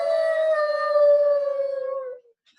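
A person imitates a wolf howl, one long sustained wavering tone lasting about two seconds that slowly falls in pitch and trails off, loud and close with no other sound around it.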